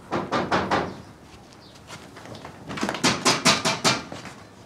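Knocking on a door, two quick bursts of several sharp raps each, separated by a short pause, fairly loud and close, with a house wedding gathering going on around.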